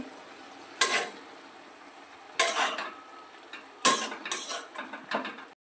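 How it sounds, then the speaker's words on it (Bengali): A metal lid lifts off a cooking pot of boiling radish greens, with a handful of sharp clanks and scrapes spread apart by quiet gaps, close and fairly loud. "এবার ঢাকনাটা তুলে দেখি শাকটা কতটা"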